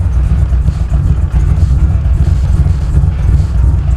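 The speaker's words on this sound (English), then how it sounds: "Truck idles absolutely awfully." A loud Gen IV LS truck engine idles close by, running badly, with a steady low rumble that wavers and stumbles unevenly.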